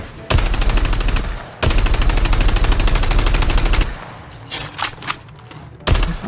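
Long, loud bursts of automatic gunfire in Call of Duty Mobile, two sustained rapid-fire volleys broken by a short pause, then quieter game noise and a final single blast.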